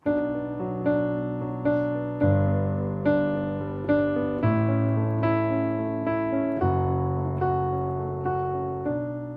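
Piano chords repeat in a steady rhythmic pattern, bass notes and right-hand chords together, changing harmony every couple of seconds.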